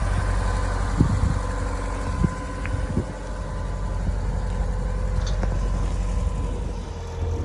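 A 1926 Willys Roadster pickup engine running steadily, a low continuous rumble with a few brief throttle blips near the start, heard up close with no talking.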